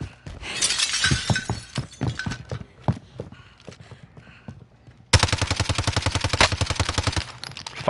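Gunfire from a gun in a PS5 video game: a run of sharp, separate shots with breaking-glass crashes comes first, then a loud, rapid automatic burst that hammers on steadily to the end.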